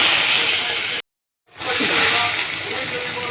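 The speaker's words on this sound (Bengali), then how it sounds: "এবার আমি পেঁয়াজগুলো দিয়ে দেবো, দিয়ে ব্রাউন কালার করে ভেজে নেব।" Onions sizzling in hot oil in a pan with black cumin seeds, a loud steady hissing sizzle, briefly cut off for half a second, then resuming as strong as before.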